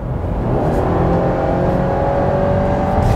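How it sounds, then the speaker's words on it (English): A 2021 Subaru Impreza with a CVT accelerating, heard from inside as a loud, steady engine and drivetrain drone with a faint whine holding at a near-constant pitch, no talking. "Back to the CVT noise."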